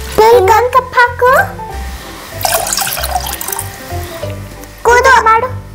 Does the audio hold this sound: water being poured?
yes